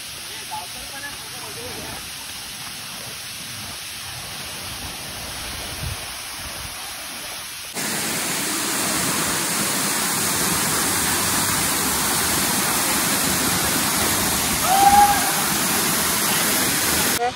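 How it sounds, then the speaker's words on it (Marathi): Kalote waterfall pours with a constant broadband roar, fairly distant at first and then abruptly louder and fuller about halfway through as the rushing water fills the scene. "तर मित्रांनो फायनली पोहोचलोय धबधब्यावर"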